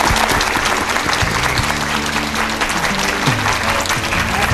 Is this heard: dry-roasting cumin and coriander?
no